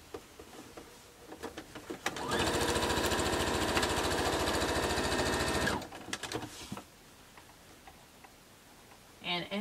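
Sewing machine stitching a bulky T-shirt quilt, a steady rapid mechanical whirring run of about three and a half seconds, loud and close, framed by quieter handling noises of shifting fabric before and after.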